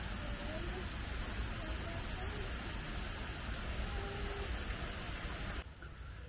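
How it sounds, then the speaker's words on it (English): Steady rain falls outdoors near a straw-roofed bush hut, a continuous broadband hiss that stays even in level before easing slightly at the very end. "It is raining now, unfortunately, but hopefully we'll clear up later."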